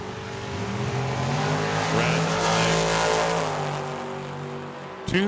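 A Camaro drag car launching at Tucson Dragway, a loud close engine roar with rising revs and tire squeal, fading slightly before an abrupt shift near the end.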